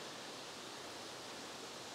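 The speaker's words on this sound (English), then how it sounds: "getting even closer to that creek down there" A creek flows far below a narrow mountain trail on a hike to a waterfall, a steady broadband rush of water with no talking.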